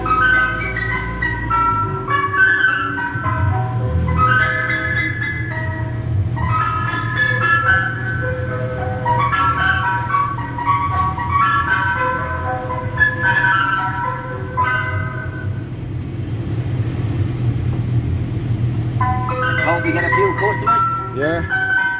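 An ice cream van plays its chiming jingle melody loudly and steadily for the whole stretch, with a low engine rumble underneath and people chatting nearby.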